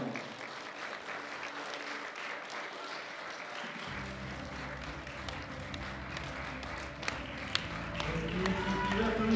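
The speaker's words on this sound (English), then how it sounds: "for the last time, a round of applause for the 63s and the" A crowd at a European classic powerlifting championship applauds the lifters, steady clapping and cheering building toward the end, with an announcer's voice and a low tone running underneath.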